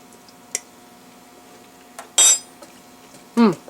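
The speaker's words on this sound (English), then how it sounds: "Okay, I'll clean my spoon again." A spoon knocked and scraped against the rim of a pot of soup made from canned soup with onion and kosher salt, two short, bright metallic clinks close by after a faint tap, with no one speaking.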